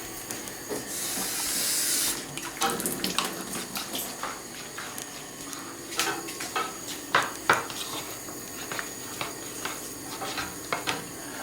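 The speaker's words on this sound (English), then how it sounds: "we're going to put a little bit of water in here to make a paste" Water pours into a bowl of corn flour to make a thickening paste for sweet and sour sauce, a brief hissing pour followed by clinks and scrapes of a spoon mixing against the bowl.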